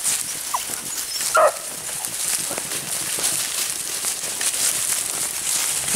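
Beagles on a rabbit hunt let out a few short whimpers and yelps against a rustling outdoor background. One brief louder cry comes early, with occasional faint vocal sounds after it.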